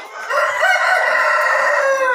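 A KUB chicken rooster crows loudly and close up in one sustained, harmonic call lasting about two seconds, with no talking over it.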